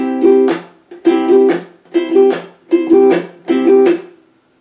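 Ukulele strummed in a repeating triplet pattern, thumb stroke, index-finger stroke and a muted click, five times at an even pace, close and clear, with no talking.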